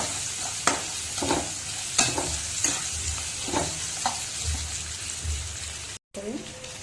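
Soaked rice is tipped into a pot with raisins for pulao and stirred, giving repeated scraping strokes over a low sizzle, close up, with a brief cut near the end.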